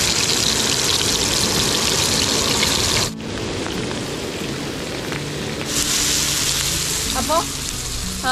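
Red snapper frying in hot oil in a pan gives a steady, dense sizzle that dips briefly partway through, then swells again, with a faint voice near the end.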